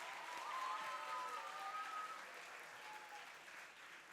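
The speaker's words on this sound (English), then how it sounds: "Let's give him a huge round of applause." An auditorium audience applauds at a student podcast launch, giving a steady wash of clapping that holds evenly and tapers slightly toward the end, with faint tonal sounds in the background.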